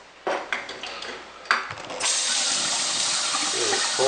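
Cold water pouring into hemp milk sediment, a few knocks and clatters before a steady hissing, splashing stream begins and runs on loudly to the end.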